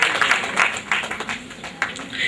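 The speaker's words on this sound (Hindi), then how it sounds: "जोरदार तालियां सर के लिए।" Applause rises from an audience for an award recipient at a ceremony, uneven hand claps swelling and dipping over a couple of seconds, with voices mixed in.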